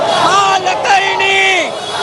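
A crowd of IT industry protesters at Liberty Roundabout, with several raised voices shouting and calling over one another in a dense, steady hubbub close by.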